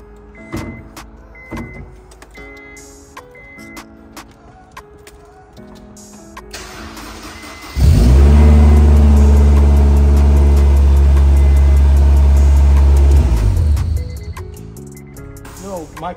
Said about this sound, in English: I'm gonna go ahead and start the car up, make sure the clutch is engaging